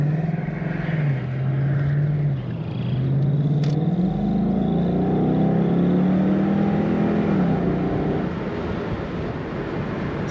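A low-mileage 2012 Ford Mustang GT Premium convertible with automatic transmission, top down, accelerating with a rising, rumbling engine note that swells and holds strong and close, with no talking.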